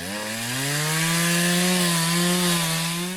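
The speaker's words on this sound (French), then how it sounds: "L'abatteur entame une première découpe sur le haut du fût et s'arrête à environ 1/3 du diamètre du tronc." Chainsaw engine revving high and steady as it cuts down into the top of a log resting on two supports, a loud, close whine that rises slightly in pitch through the cut.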